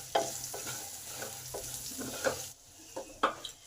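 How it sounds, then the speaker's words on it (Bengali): Potatoes with salt and turmeric are stirred in a frying pan for a potato-cauliflower dish, each stroke a soft scrape against the pan, repeating every half second or so over a faint sizzle, close and fairly quiet. "নুন আর হলুদটাকে আলুতে ভালোভাবে মিশিয়ে দিলাম।"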